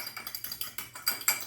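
Strawberry matcha drink is whisked without a matcha whisk, giving rapid, evenly spaced clinking scrapes of a utensil against a cup, close and fairly quiet, with no talking.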